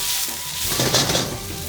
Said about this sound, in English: push the garlic and ginger, up to the side and sort of let the pork have this, really hot spot so we can sear it